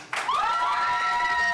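A live theater audience at a stage show erupts in cheering and whooping, a sudden loud swell of voices with rising shouts that holds steady for a moment.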